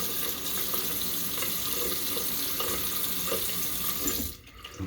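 Water runs steadily from a bathroom tap during wet shaving with a soap lather, a constant close hiss for about four seconds that cuts off near the end, with no talk over it.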